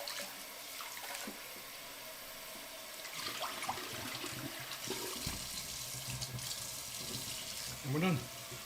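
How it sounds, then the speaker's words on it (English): Cold water running from a kitchen tap during cooking, a steady quiet splashing stream with a few clunks and a short louder burst near the end. "give me the cold water on this handle here"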